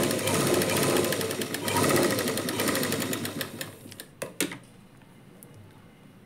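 Sewing machine stitching a lining blouse runs in a steady rapid whir for about four seconds, then stops, followed by a few sharp clicks and handling knocks.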